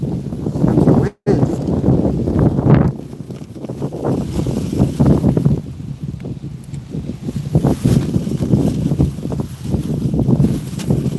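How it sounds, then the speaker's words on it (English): Gusts of wind blow across a river and buffet the microphone with loud, uneven rushing and rumbling that surges and eases throughout. A brief dropout interrupts it near the start. "Comes the wind."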